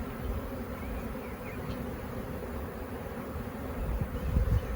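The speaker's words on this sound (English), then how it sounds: "just visually looking through this ball of bees to see if I can see the queen" A clustered swarm of honeybees, with the bees exposing their Nasonov scent glands, gives off a steady, dense buzzing hum that stays close and constant throughout, with no voices.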